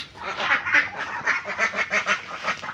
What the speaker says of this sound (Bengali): আমাদের হাঁসগুলো এখন বের হয়েছে